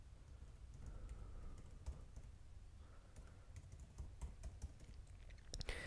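Keys tapping on a MacBook Air M2 keyboard while an Apple ID is entered, soft close clicks in a quiet room with a few brief pauses between bursts.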